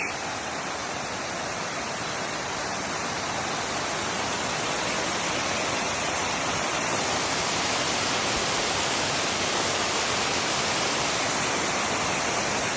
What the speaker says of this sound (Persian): دل بیابون یه همچین کوهی وجود داشته باشه که این همه آب بیاد بیرون، اونم نمک